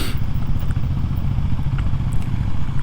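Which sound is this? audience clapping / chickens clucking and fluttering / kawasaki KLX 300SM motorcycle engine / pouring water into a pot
kawasaki KLX 300SM motorcycle engine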